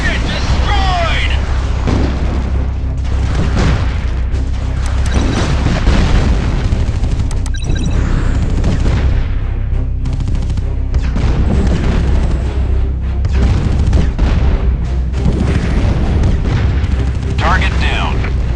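Artillery explosions boom repeatedly in the mobile war game Art of War 3. The blasts are loud and irregular, layered over dense battle noise, with game voice callouts heard between them.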